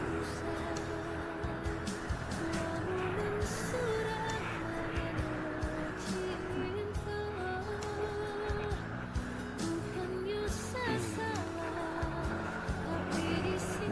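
A Honda Scoopy motor scooter climbs uphill on Gunung Talang in Solok, its small engine droning continuously and straining with shifting pitch throughout, while a rider talks over the motor.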